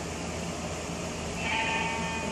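Sheep bleating in the video game Minecraft, a drawn-out call that swells in the second half over a steady hum of game background noise.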